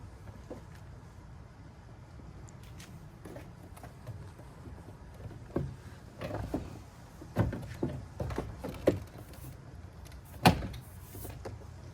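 The power window motor in a Mazda CX-9 door runs after a repair, giving faint whirring and a series of soft mechanical clunks and knocks that grow more frequent toward the end, in a quiet setting.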